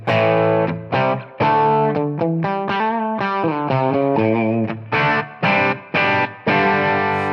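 Overdriven electric guitar on the bridge pickup with a bright, gritty bite, playing sustained chords and riffs with short gaps between phrases, loud and close with no talking.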